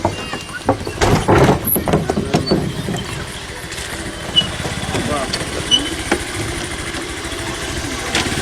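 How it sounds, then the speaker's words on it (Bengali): A car comes slowly along a remote, rough rural road. Its engine rumbles low and steady beneath broad outdoor noise, and voices are heard near the start. "দেখতে পাচ্ছেন আপনারা সেলিম ভাই আসতেছেন গাড়ি নিয়ে"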